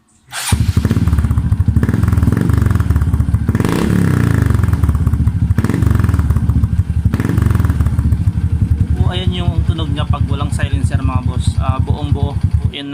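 A Honda XRM125 motorcycle engine revs hard with its exhaust silencer removed, a loud, raw, close roar that surges and falls in repeated blips before settling into a rough, clattering idle.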